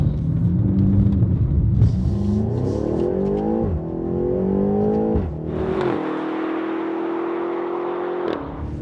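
A 575 hp V8 BMW X6 M in Long Beach Blue driving on the street, its engine note climbing through gears with rising pitch sweeps, brief dips at shifts, then settling into a steady loud cruising drone.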